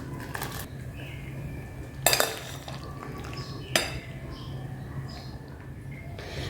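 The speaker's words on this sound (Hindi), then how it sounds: "अब इसे मैं निकाल लूँगी गर्म पानी से छानकर।" Boiled macaroni tipped into a strainer and drained with hot water in a home kitchen: a steady wash of pouring water with a few sharp metallic clanks of a pot against the strainer, no talking.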